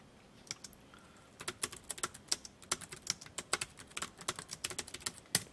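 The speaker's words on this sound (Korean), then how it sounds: "밑으로 내려서 저는 나머지 거 다 타이핑 치겠습니다." Typing on a computer keyboard while filling in a Hangul word-processor exam document, a rapid irregular run of crisp close key clicks with brief pauses and no voices.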